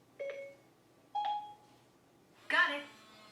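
Faint electronic chimes from a front-door smart lock as it locks: two short tonal beeps spaced about a second apart, then a brighter, noisier burst, all quiet in the background of a home.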